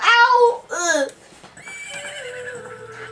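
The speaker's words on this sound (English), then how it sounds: "Now this horse is gonna follow me." A horse in the video game The Legend of Zelda: Ocarina of Time whinnies twice in quick succession, loud and close, followed by a sustained game music tone.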